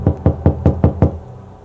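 Six firm, evenly spaced knocks on a door sound close and loud at a steady pace, then fade into silence, with no voices.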